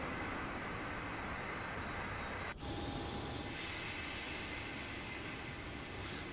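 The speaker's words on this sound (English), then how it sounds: "That sound of the engine shutting down" A PMDG Boeing 737-800 engine in Microsoft Flight Simulator 2024 spools down as a steady loud roar, broken by a sudden dip and click before a continuing whine and rumble, with no talk.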